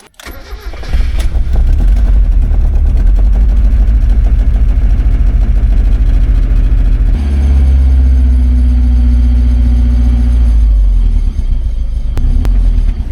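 A Mazda Miata cranks and fires, settling into a loud, rough idle that shifts in pitch midway and keeps running close up.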